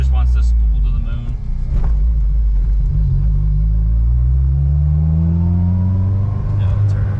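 A Mazdaspeed6 turbo engine reaching boost, its loud, close rumble rising steadily in pitch as the car pulls hard, with a deep drone running underneath throughout.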